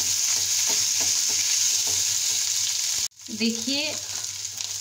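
Mashed potatoes being stirred into spices in a frying pan for a bread breakfast snack, a steady close sizzle with repeated scraping stir strokes, then a brief pause and a short spoken word over renewed frying.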